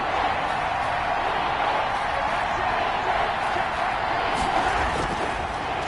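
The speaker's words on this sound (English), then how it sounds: "the crowd getting into it as we come up on a big 3rd down" A football stadium crowd roars steadily during a big third-down play in a Kansas City Chiefs game, a dense, continuous wall of cheering and crowd noise that holds at full volume from start to finish.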